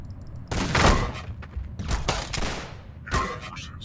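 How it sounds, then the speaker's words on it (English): Shotgun blasts in the video game Plazma Burst 2: three sharp, booming bursts spaced about a second apart, loud and close, with no talk over them. "Nope! Shotgun!"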